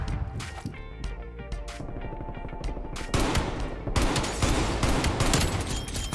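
A pistol and other guns fire inside Call of Duty: Black Ops Cold War, first as fast single cracks and then as a dense, loud volley of shots that keeps going, with no talking.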